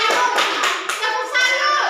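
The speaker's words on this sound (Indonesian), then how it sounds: "tepuk salam untuk Haros." Children doing a greeting clap routine in a classroom, rapid patterned hand claps with young voices mixed in, steady and fairly loud throughout.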